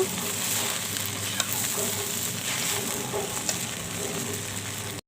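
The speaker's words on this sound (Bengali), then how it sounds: "পাস্তাটা দিয়ে আমি এটাকে সুন্দর করে ভাজা ভাজা করে নেব।" Pasta sizzles in a frying pan alongside fried egg: a steady, close hiss of frying, broken by a few sharp clinks and scrapes of stirring.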